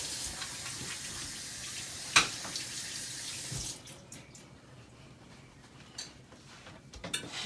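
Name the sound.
tap water running, washing hands at sink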